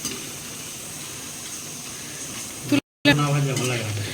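Potato papad frying and floating in hot oil, a loud continuous sizzle broken by a brief gap, with a voice talking over the bubbling near the end.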